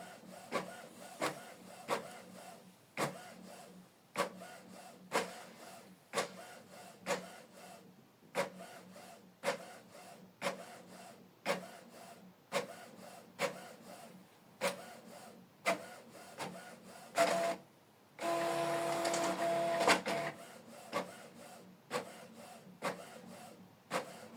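A Canon printer running a two-sided print job: repeated rhythmic mechanical clicks and rasping feed strokes roughly every second, with a longer whirring pass near the end, heard close and alone.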